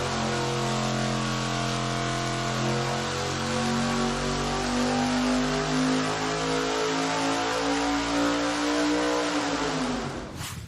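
A thousand-horsepower naturally aspirated V8-style race engine roars on a dyno at sustained high revs, a loud steady wail that climbs slightly in pitch before cutting off abruptly near the end.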